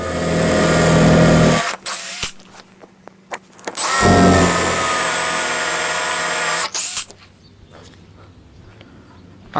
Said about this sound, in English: Now we gotta drill a few holes here so we can put these things to attach it all.